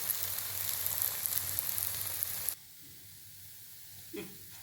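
Wheat poli flatbread fries in a hot pan, a steady loud sizzle for about two and a half seconds that then drops to a faint hiss, with a brief soft scrape near the end.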